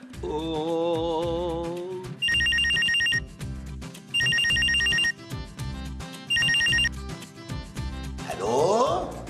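A telephone rings in repeated electronic bursts, three loud evenly spaced trills separated by pauses, with voices and background music around them in a Pakistani comedy drama scene.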